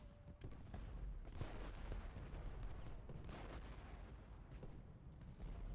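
Artillery guns firing across a battlefield in the video game Ultimate General: Gettysburg: a faint, steady stream of distant overlapping booms and musketry crackle with no talk.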